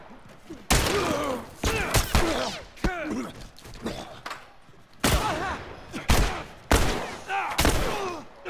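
Gunfire in The Last of Us, a series of sharp, loud shots at irregular intervals, close by, with faint voices murmuring between them.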